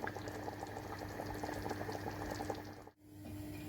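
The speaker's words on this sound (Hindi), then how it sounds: "इसमें पानी डाला है, 2-3 उबाल आएंगे" Chicken and turnip curry with added water boils in a pot, a steady close bubbling and simmering that runs on evenly, then briefly drops out near the end before resuming.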